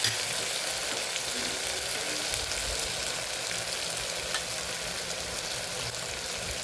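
Steady, loud sizzling of bottle gourd frying in a hot pan, a continuous crackling hiss throughout with faint stirring.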